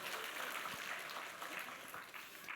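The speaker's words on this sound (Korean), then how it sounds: "잘하셨습니다. 박수." A church congregation applauding during a Sunday evening service, a steady wash of many hands clapping that sounds faint and distant from start to end.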